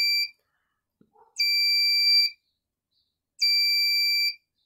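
A 220-volt industrial indicator buzzer sounds in two loud, steady electronic bursts about two seconds apart, each lasting roughly a second with a harsh tonal whine, separated by silence and a faint click.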